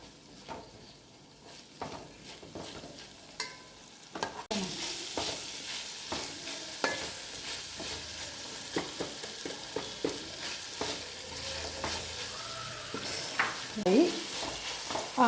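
Onions stirred and frying in a pan for a pepper chicken dish, a steady sizzle with scraping spoon strokes that grows louder and fuller after the first few seconds, continuing throughout.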